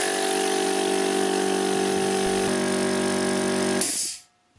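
An air compressor powered by a solar power station runs with a loud, steady mechanical hum and drone, holding level for about four seconds before cutting off abruptly into quiet.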